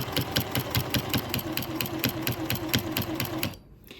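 A sewing machine with a walking foot runs steadily, stitching binding onto a quilt edge, its needle clattering in a fast, even rhythm up close before stopping abruptly near the end.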